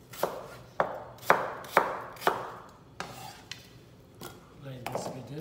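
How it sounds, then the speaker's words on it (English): A knife chops potato on a board for lentil soup, about eight sharp, fairly loud cuts in an uneven rhythm, close by. "Cut potato"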